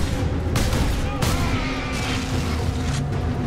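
Heavy gunfire from the video game Warhammer 40,000 Space Marine rattles continuously in close, loud bursts, with booming impacts layered throughout.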